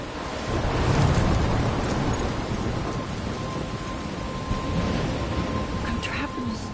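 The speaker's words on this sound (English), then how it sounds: "I'm trapped in a storm?" Heavy rain pours steadily in a game thunderstorm near a lighthouse, with low rumbling thunder swelling and fading underneath throughout.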